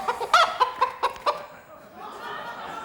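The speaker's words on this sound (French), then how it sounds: "Ah, il est venu avec sa poule." A hen clucks in a quick series of short, sharp bursts up close, then falls away into a soft, noisy background.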